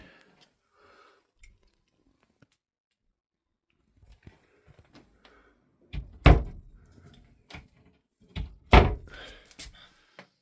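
A cupboard door in a campervan is pushed shut onto a newly fitted catch, giving two sharp wooden thunks with a faint click. Quieter knocks and handling noises come before them in an otherwise quiet space.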